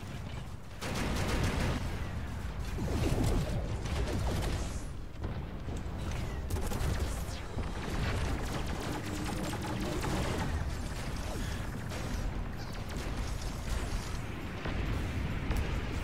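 Continuous gunfire and heavy mechanical blasts from the robot combat game Robocraft, a loud, dense, unbroken barrage of booming shots and clanking machinery that fills the whole stretch.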